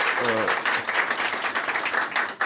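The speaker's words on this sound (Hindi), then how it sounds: "इनके लिए ज़ोरदार तालियां होनी चाहिए" Audience applause for two doctors at a school talk on children's health, a dense wash of clapping mixed with a voice near the start.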